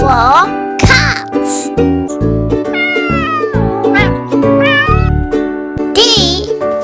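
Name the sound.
cat meowing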